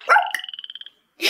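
A frog croaks nearby, a loud rapid series of about a dozen short rhythmic pulses trailing off, followed by a brief breathy burst.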